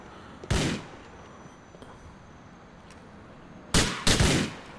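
Shotgun blasts in GTA IV: a single loud, close boom, a quiet stretch, then two more blasts fired in quick succession.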